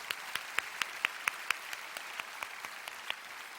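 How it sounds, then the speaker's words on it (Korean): A church congregation at a prayer meeting claps in a steady, rhythmic beat, faint and spread across the room, about fifteen distinct claps over a few seconds with no voices. "우리 주님께 영광의 박수 올려드립시다."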